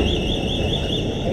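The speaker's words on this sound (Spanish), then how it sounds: "La alarma" An alarm sounds continuously in a steady warbling electronic tone, loud and unbroken over a low background rumble, with no voices.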